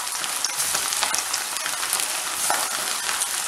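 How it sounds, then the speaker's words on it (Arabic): Chicken pieces fry in hot oil with a dense, crackling sizzle and small popping bursts throughout, close and steady with slight stirring, no voices. "هنا كتكون الزيت سخون هنا كنبداو نقليو الدجاج ديالنا"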